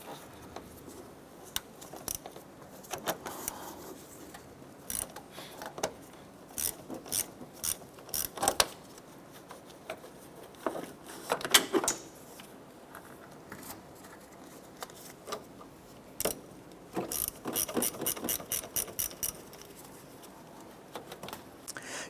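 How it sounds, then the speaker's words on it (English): A ratchet with a 10mm socket clicks in quick bursts of close, sharp pawl ticks, with pauses between, while loosening the battery terminals on a 2006-2013 Chevrolet Impala. "a 10mm socket and ratchet, we're going to go ahead and loosen and remove our battery terminals"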